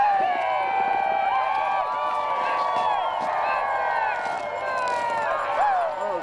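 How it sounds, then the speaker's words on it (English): An excited crowd of students rides a giant record-setting toboggan outdoors, with continuous overlapping shouts and high cheering voices at steady loudness for several seconds. "This is the excited crowd taking part in the feat"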